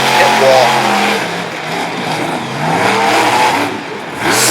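A monster truck engine revs hard as it races out of a turn at an event in Radford, Virginia, a loud, surging roar rising and falling, with a commentator talking over it.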